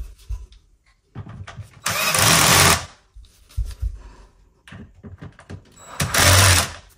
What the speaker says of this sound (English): you can use a power drill to tighten.